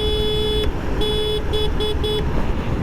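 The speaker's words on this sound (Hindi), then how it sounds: "हॉर्न की अच्छी क्वालिटी" Piaggio Vespa VXL dual-tone scooter horn sounding loud and close in a sustained blast, then four shorter honks in an uneven rhythm, with no talking.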